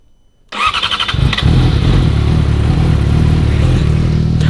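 Yamaha R6 sportbike cold-starting on a freezing day after sitting unused a long time: a brief starter whir and chatter, then the engine catches and settles into a loud, steady idle.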